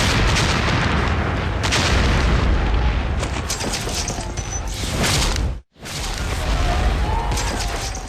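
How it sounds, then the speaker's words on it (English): Artillery and gunfire in a reenactment of the 1776 Battle of New York: a dense, continuous roar of booms and blasts. A brief sharp drop to near silence comes partway through, then the barrage resumes. "September 1776. New York is under fire."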